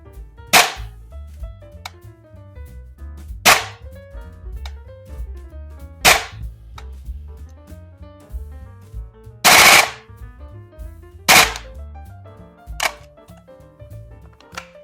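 Airsoft FN SCAR-L MK2 MWS gas blowback rifle giving sharp, loud cracks at irregular intervals, about six or seven separate reports across the span, each standing alone over a low background hum.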